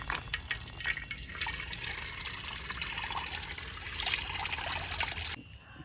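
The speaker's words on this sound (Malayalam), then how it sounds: "എണ്ണ ഒഴിച്ച് കൊടുക്കാം" Oil poured into a pan for frying parippu vada made with drumstick leaves, a steady hissing liquid stream lasting several seconds, close and fairly loud, then stopping abruptly.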